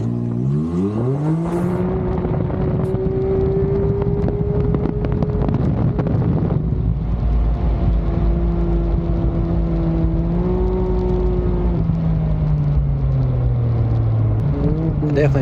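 A Can-Am X3 side-by-side races laps at a time attack event, its engine droning loud and close for about fifteen seconds, with pitch climbing and falling through gear changes under heavy wind buffeting.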